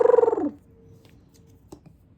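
A voice imitates an owl's call with one short, warbling hoot at the very start, then fades into near silence with a faint click.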